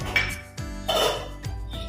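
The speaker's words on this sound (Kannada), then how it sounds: "ಒಲೆ ಮೇಲೆ ಒಂದು ಪಾತ್ರೆ ಇಟ್ಟು ಸ್ವಲ್ಪ ದಪ್ಪ ತಳದೆ ತಗೊಳ್ಳಿ" A heavy-bottomed cooking pot set down on a stove while making rava laddu with ghee, giving a few close metallic clanks and clinks spread over about two seconds with no talk.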